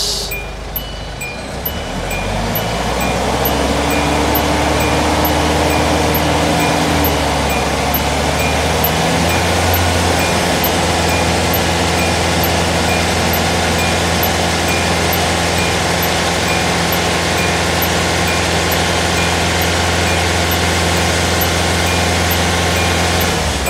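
A car engine revs up and is held at about 2,500 RPM for a battery test, a steady loud droning hum that rises in the first couple of seconds and then stays constant.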